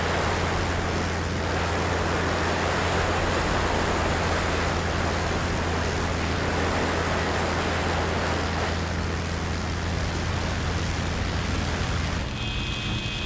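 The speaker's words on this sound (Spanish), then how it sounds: "Escuchad el agua. Cómo golpea el fuselaje." Water rushing against an aircraft fuselage in the IL-2 Korea flight game, a loud, steady broadband wash over a low engine hum, continuous throughout before the tone shifts near the end.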